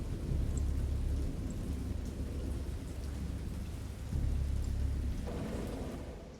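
A thunderstorm rolls on with steady heavy rain pattering on surfaces and deep, low thunder rumbling throughout, swelling again partway through, fairly quiet and with no voices.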